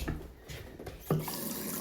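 Cold water running from a kitchen sink tap, a steady broadband rush with a brief splash or clunk near the end, close and moderately loud.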